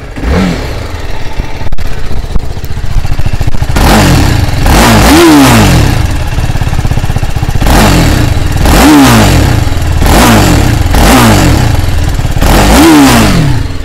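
A TVS Apache RR 310 motorcycle engine starts and settles into a rumbling idle, then gets blipped through several sharp, loud revs that rise and fall in a repeating rhythm, close up with no talk.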